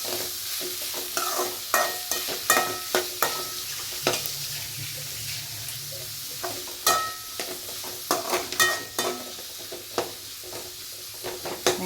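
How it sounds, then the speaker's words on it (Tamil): Onions frying in a pan while being stirred, a low steady sizzle under frequent sharp clacks and scrapes of a spoon against the metal, coming in irregular bursts, close and clear throughout. "வெங்காயம் வந்து லைட்டாக வேகட்டும்."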